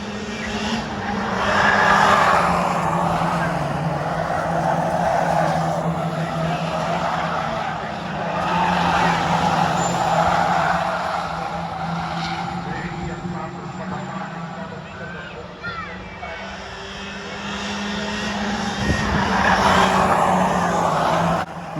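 Stock cars racing closely in a tight battle on track, engines droning steadily and continuously at close range with brief tire-skid squeals, voices talking faintly underneath.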